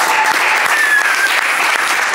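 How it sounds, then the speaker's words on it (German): A crowd claps and applauds, dense and loud throughout the short stretch, with no talk. "das Klatschen war jetzt"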